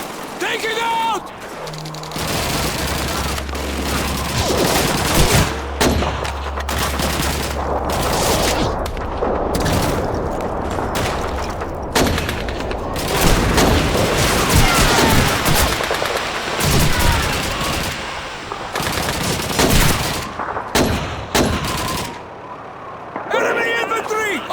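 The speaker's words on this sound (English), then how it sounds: "Enemy machine gun to the east! Take it out!" Call of Duty 2 battle with repeated machine gun bursts and scattered gunfire, loud and dense throughout, mixed with shouted voices and combat noise.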